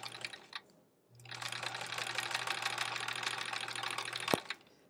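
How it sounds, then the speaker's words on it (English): A sewing machine runs steadily through a foundation paper pieced quilt block, a continuous whirring stitch after a short start and pause, close and fairly loud, ending with a sharp click. "This is the best part, just sewing along that line."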